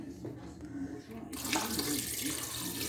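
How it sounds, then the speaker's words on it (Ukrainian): A tap fills a pot with water for chicken broth in a home kitchen. A quiet start gives way to a loud, steady rush of running water that lasts to the end. "Заливаємо, включаємо."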